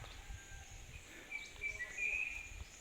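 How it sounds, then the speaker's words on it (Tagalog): Birds in the Philippine countryside give thin, high chirps and short whistled calls scattered over a low, rustling outdoor background. "Maririnig mo lang huni ng ibon."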